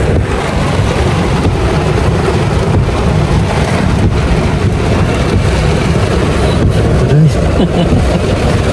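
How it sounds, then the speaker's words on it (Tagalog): Heavy, steady rain roars continuously, dense and loud, with a low rumbling undertone throughout and no clear voices. "Ulan."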